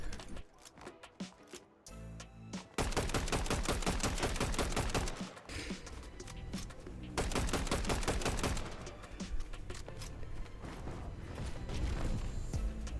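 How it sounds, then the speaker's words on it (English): Rapid bursts of assault rifle fire in the Fortnite video game, loud repeated volleys of sharp shots separated by brief pauses, with no voices over them. "Those AR shots."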